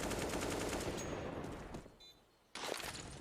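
Rapid gunfire bursts in Counter-Strike: Global Offensive, dense automatic shots that fade into a brief lull, then another loud burst near the end.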